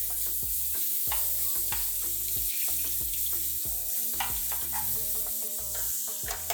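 Mashed carnitas deep fry in hot oil in a cooking-class kitchen, a steady close sizzle broken by repeated stirring scrapes and bursts of bubbling, with no talking.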